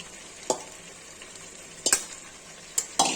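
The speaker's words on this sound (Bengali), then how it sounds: "আমি ভাজা আলুগুলো ছেড়ে দিচ্ছি" Fried potatoes stirred into a pan of sizzling chicken curry, a steady soft frying hiss broken by four sharp scraping clatters of a spoon against the pan, close and alone without talk.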